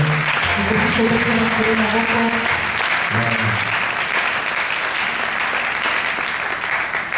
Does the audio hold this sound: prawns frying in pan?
no